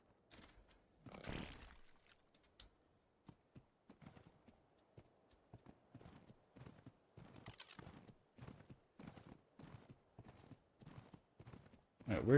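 Horse hooves clip-clopping in the survival game Ark: Ragnarok, a quiet, regular run of sharp thuds in a steady walking rhythm, one brief louder rustle early and a louder burst at the end.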